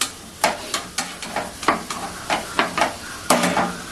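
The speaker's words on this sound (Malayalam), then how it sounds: "ഉള്ളി ഒന്ന് ഇട്ട് കൊടുക്കാം. നമുക്കൊന്ന് ജസ്റ്റ് ഒന്ന് ഇളക്കി കൊടുക്കാം." Onions sizzle in hot oil while a spoon scrapes and stirs them in a regular rhythm of sharp clanks over a soft frying hiss, nearby and with no talking.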